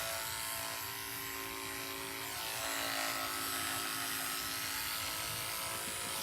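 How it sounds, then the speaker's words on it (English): Electric clippers buzz steadily and close up while shaving the hair on a dog's back leg before a vein catheter is placed, a continuous drone with no talk over it. "So I'm going to shave the area."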